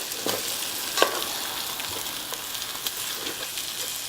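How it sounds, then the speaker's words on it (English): Meat browns in a frying pan for pork bone ramyun, a steady close sizzle and crackle with occasional soft scrapes of stirring, heard on its own without talking. "So this meat, like I said, I'm just browning it."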